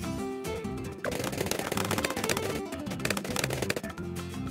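Rapid sniper fire from upgraded towers in Bloons TD 6, a dense, continuous rattle of quick shots layered over game music and effects, steady and loud throughout.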